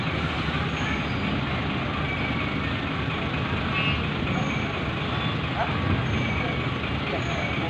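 Trucks rolling onto a ferry at the Merak–Bakauheni crossing: continuous heavy engine rumble and clanking with faint high beeps and hisses scattered throughout, busy and close.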